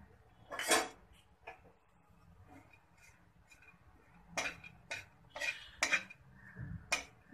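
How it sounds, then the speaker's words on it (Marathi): Almonds and cashews being stirred and roasted in ghee in a pan: scattered, close clinks and scrapes of a spoon against the metal over a quiet background. "ह्या तुपावर आपण हे जे ड्रायफ्रूट्स घेतलेत ते थोडेसे परतून घेऊया"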